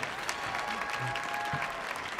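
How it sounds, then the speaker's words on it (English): Audience applause for gospel soloists at a live concert on a stage, a steady wash of clapping holding for about two seconds with no pauses. "someone to clap your hands for all our soloists"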